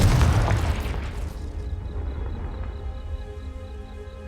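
A Confringo blasting spell in Hogwarts Legacy bursts with a heavy low boom at the start, then rumbles and fades into a quiet tail with faint high ambient chirping.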